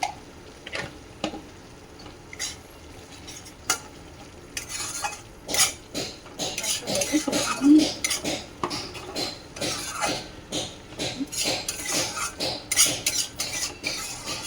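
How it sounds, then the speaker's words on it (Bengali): Irregular knocking and tapping from construction workers nearby, sharp uneven thuds that grow busier and louder midway, heard without talk over a quiet kitchen backdrop. "মিস্ত্রি চলে এসেছে সেই জন্য আওয়াজ ঠক ঠাক ঠক আওয়াজ হচ্ছে"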